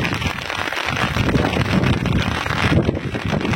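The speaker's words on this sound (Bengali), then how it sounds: "পুরো হাওয়ায় প্রাণ ঠান্ডা হয়ে যাচ্ছে।" Outdoor wind gusts buffet the microphone in a garden with a fruit tree during a rainy season, a loud, rough roar that swells and dips over a few seconds with no speech.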